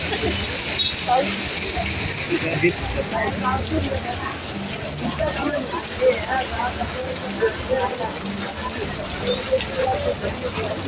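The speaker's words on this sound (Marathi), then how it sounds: "पाऊस मोठा झाला म्हणून थोडं थांबले." Heavy rain pours steadily in the Konkan countryside near an old temple, a dense, close hiss of drops drumming on surfaces throughout, with faint voices under it.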